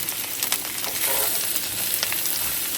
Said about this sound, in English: Now I'm going to be sauteing this until they're just barely golden.